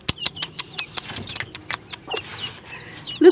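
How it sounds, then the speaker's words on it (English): Small chicks pecking at cabbage, giving a run of quick sharp taps and soft peeps and clucks, close by and fairly quiet, with a louder chirp at the end. "See my small chicks here."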